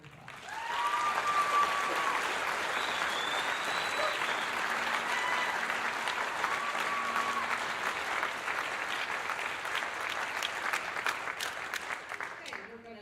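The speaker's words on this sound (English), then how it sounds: "So please give these students a round of applause." Audience applause for student musicians at a school winter band concert, a steady sustained wash of clapping from a full hall lasting over ten seconds before fading out.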